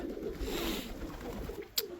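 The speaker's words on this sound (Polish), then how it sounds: "To jest fajny gołąb." A domestic pigeon coos softly in low repeated tones among a flock at a bathing spot, with a brief sharper bird sound near the end.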